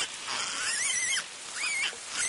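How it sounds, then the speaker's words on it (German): A piglet being carried squeals in long, shrill, wavering cries, loud and close, two drawn-out squeals separated by a short break. "das Schweinchen lässt sich nicht gern tragen und quiekt ganz furchtbar"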